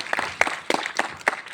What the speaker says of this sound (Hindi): भाई तालियां थोड़ी खुल के बजाइए ना